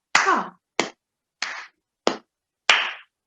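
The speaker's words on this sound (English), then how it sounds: "We could pat our shoulder like this and then clap." Hands patting shoulders and clapping in a steady rhythm for a children's music lesson: five sharp, close slaps spaced evenly, heard alone with no talk.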